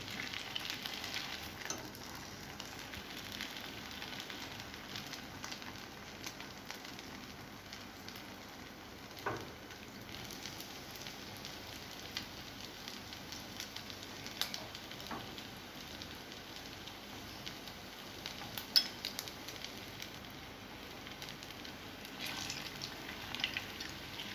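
Potato apple lollipops frying in a pan, a quiet, steady sizzle with occasional small pops and crackles running throughout at low volume.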